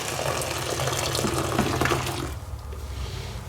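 Warm water pours steadily from a tap into a container to make soapy water for washing Ford 800 carburetor parts, a dense, close splashing rush that softens slightly toward the end, with no talk.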